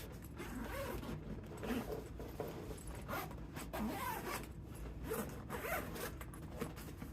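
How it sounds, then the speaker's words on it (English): Zippers on a new Momentum Freight Pack box being pulled open, a run of repeated rasping zips in short bursts, close and fairly loud, with no talking over them. "Zippers."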